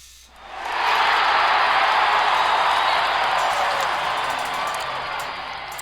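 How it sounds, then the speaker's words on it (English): Football stadium crowd in Los Angeles roaring after a touchdown, a dense broad wash of cheering that swells within the first second and holds loud before slowly easing, with no clear talk over it. "The crowd goes wild in Los Angeles looking for something to cheer for."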